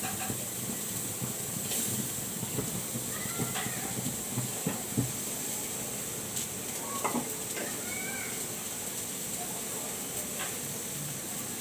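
Onion frying in oil in a pan for a shrimp and Malabar spinach dish, a continuous dense hiss with a few faint scrapes and a voice briefly audible in the background.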